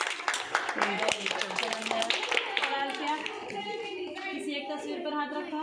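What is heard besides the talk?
children clapping hands in a classroom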